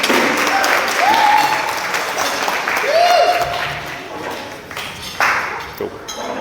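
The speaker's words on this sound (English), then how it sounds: "Round of applause for Nick," Wedding reception guests applaud the best man as he takes the stage, a steady wash of clapping with a couple of bright ringing pings and voices talking over it.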